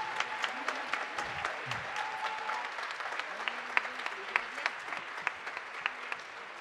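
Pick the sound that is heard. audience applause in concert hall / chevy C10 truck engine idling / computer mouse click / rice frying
audience applause in concert hall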